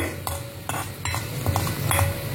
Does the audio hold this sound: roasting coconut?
yes